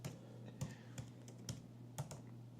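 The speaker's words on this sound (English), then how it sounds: "I keep typing it in wrong." Someone types in short bursts on a computer keyboard. Distinct clicks fall roughly every half second over a low steady hum, with no talk over them.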